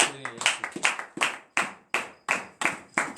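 A church congregation at morning prayer in Benin claps in acclamation with sharp, rhythmic hand claps in a regular beat, about three per second, near and distinct with short gaps between them.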